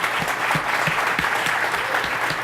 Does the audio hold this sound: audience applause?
yes